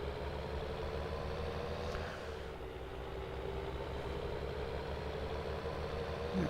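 A Fendt tractor engine idles in Farming Simulator 19 with a steady, low diesel rumble that holds an even drone throughout, moderately loud and close, with no one talking.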